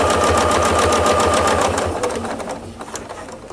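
A sewing machine doing ruler-foot quilting on a table runner runs at steady high speed with a fast rhythmic stitching pulse, loud and close, then slows and stops around two seconds in, leaving quieter handling noise.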